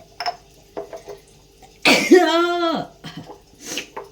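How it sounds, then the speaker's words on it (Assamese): A single loud sneeze bursts out, preceded by a few faint quieter sounds and followed by soft noises, close to the listener indoors near an open window. "হাঁচি চাচি ওলাই গৈছে"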